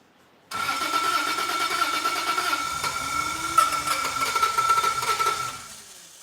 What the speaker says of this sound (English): We'll turn the injectors on and hit the start button and see if it'll fire up.